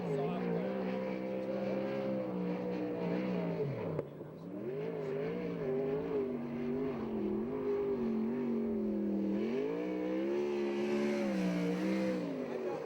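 A USAC/CRA sprint car laps Hanford's track, its engine droning and rising and falling in pitch through the turns, heard from a distance at moderate loudness over the whole stretch.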